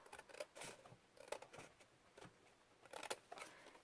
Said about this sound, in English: and then cut on the inside of your score.